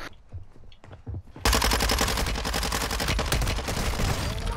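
Gunfire in Warzone 2: a few scattered shots, then sustained rapid automatic fire that stays loud and dense to the end.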